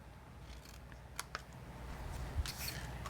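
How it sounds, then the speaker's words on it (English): Scissors snipping paper pieces for a Paper Pumpkin Halloween craft, a few quiet, sharp cuts close by, separated by soft rustling of paper, no talking. "So I'm gonna cut these pieces through the center of that oval."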